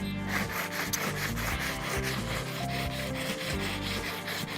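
Steady back-and-forth rasping of a hand saw cutting through wood outdoors, repeated strokes in a continuous rhythm, close and fairly loud, no voices.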